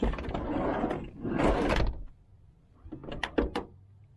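A 1997 Hiace Super Custom van's sliding door rumbles and clunks shut on its own, followed by a few lighter mechanical clicks and latching sounds.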